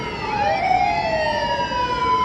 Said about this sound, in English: the sounds of wailing sirens attract our friendly neighborhood Spider-Man